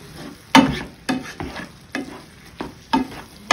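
A spoon works lettuce wrap filling and sauce around a hot frying pan on the stove, sounding as about seven distinct scraping strokes over a soft sizzle, close and fairly loud, with no talking.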